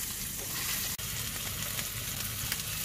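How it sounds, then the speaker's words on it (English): A pot of pasta boils on a home stove, giving a steady close bubbling hiss with no voices. "Our pasta's boiling."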